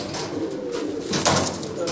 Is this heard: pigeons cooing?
yes